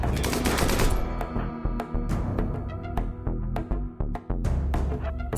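Gunfire in the Rimworld video game, rapid bursts of sharp shots in quick volleys, loud and mostly without pauses.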